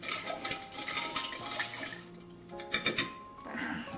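Soda, a full ounce, is poured into a glass for an old fashioned cocktail. It gives a close, loud splashing and fizzy liquid rush that comes in bursts over several seconds.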